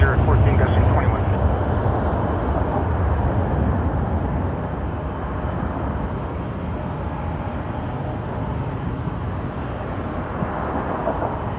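A jet airliner taking off from Toronto Pearson Airport, its engines producing a loud, continuous low roar that eases slightly as the aircraft climbs away, with a voice talking over it.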